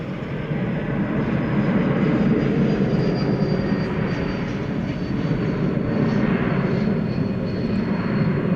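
Boeing 777 heavy jet at Dallas/Fort Worth airport, a loud steady engine roar holding evenly throughout with a faint high whine above it, no voices.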